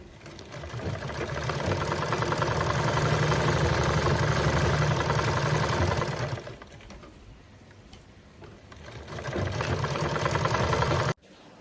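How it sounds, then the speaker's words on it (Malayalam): A sewing machine stitches two churidar top fabric pieces together, running in a long, steady mechanical whir. It pauses briefly, then runs again before stopping abruptly. It sounds close, with no speech. "അപ്പം ആദ്യം ആ 2 ഭാഗം കൂട്ടി തയ്ക്കുക. ഇതുപോലെ തയ്ച്ചെടുക്കുക."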